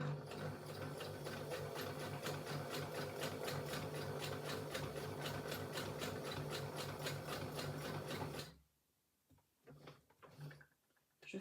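A sewing machine runs steadily for about eight seconds of fast, even free-motion stitching with gold metallic thread and a metallic needle, close and continuous, then stops and leaves a few faint handling clicks and rustles.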